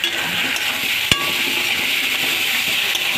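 Potatoes frying in a hot pan, a steady dense sizzle running throughout with a brief stir or clink of a utensil near the start.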